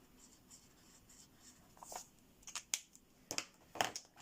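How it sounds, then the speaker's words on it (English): Colored pencil strokes on paper while colouring a heart-themed lid in dark blue, heard as faint scratchy scribbles in short bursts, a few sharper scratches standing out near the end against quiet room tone. "I'm going to add a bit of my darker blue pencil"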